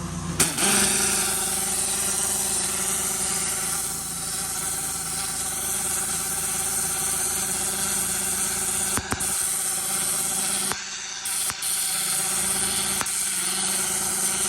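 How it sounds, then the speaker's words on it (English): Pressure washer firing a turbo nozzle on graffiti: a loud, steady broadband hiss of spray with a low engine drone beneath, running almost unbroken with a few brief cut-outs near the end. "Now I'm gonna use the turbo nozzle."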